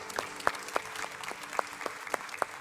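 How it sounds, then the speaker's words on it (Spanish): Sparse, distinct hand claps from a church congregation applauding the worship team during a Spanish-language service, each clap sharp and separate against a quiet room. "Un aplauso para ellos."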